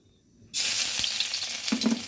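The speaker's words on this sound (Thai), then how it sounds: "กระเทียมลงไปเจียวให้หอม" Garlic dropped into hot oil bursts into a loud, dense sizzle after a brief quiet moment and keeps hissing steadily up close, with a couple of faint taps from a utensil and no voices.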